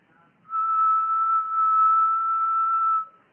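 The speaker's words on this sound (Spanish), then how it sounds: "Por ejemplo, un silbido." A single steady whistled note held for about two and a half seconds, clear and close, with silence before and after.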